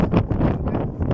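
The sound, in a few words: strong wind blowing into microphone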